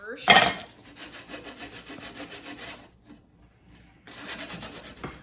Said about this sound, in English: So it just needs a little tiny bit of sanding just to pull those two corners in together.